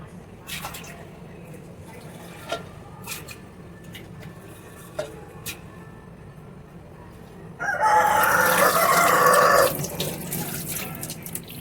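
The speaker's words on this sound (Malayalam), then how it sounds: "അങ്ങനെ ചെറുപയറൊക്കെ കഴുകി" Soaked green gram (mung beans) being washed under a running kitchen tap, a loud steady rush of water arriving partway through after a quieter stretch with distant rooster crows and faint background voices.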